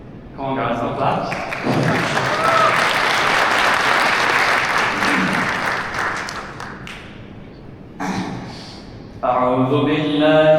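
Loud, sustained applause from an audience at a GMC 2026 gathering in Türkiye, filling most of the clip, then fading; someone speaks in short bursts near the end.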